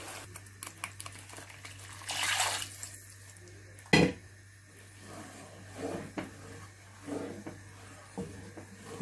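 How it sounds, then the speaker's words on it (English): Water runs and splashes as a bowl is rinsed at a sink, with a brief gush, a sharp knock against the bowl and scattered drips and clatter. "I'm going to wash the bowl and pour it back into it."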